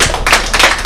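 Church congregation clapping in praise of God, a few quick bursts of claps in an uneven rhythm, close and fairly loud, without voices.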